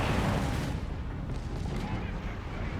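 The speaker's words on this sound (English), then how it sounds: "Direct hit from the artillery on the Stug as the charge in" An artillery shell slams into a StuG assault gun in Company of Heroes 3, a dense, loud rumbling blast of battle noise that stays heavy and continuous throughout without a clean pause.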